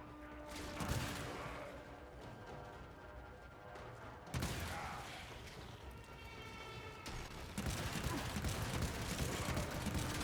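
The Scourge weapon firing on Grineer enemies in Warframe gameplay, a dense, continuous roar of rapid discharges and impacts that swells louder toward the end, with busy combat noise throughout.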